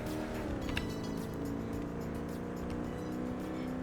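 Race car lapping a test track in Car Mechanic Simulator 2018, its engine droning steadily at high revs throughout with a sustained, loud, slightly wavering tone and no talk.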